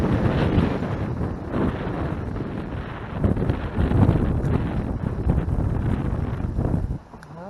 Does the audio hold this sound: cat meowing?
no